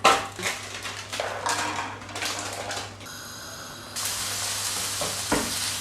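Courgettes and raisins fry in a pan with a soft, close sizzle, punctuated by irregular clacking stirs and scrapes against the pan; nobody talks.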